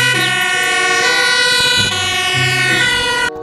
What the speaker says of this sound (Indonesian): ternyata ini truk tangga pemadam kebakaran.